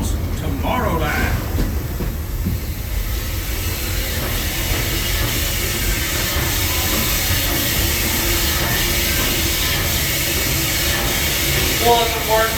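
Walt Disney World park train rolling from Fantasyland station to Main Street station, with a continuous rumble and clatter of wheels on track, hissing, and a brief squeal near the start, as voices talk over it.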